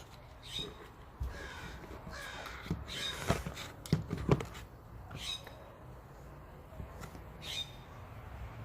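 A crow caws several times in short, scattered bursts at moderate distance, harsh squawking calls over a low background rumble with no talk.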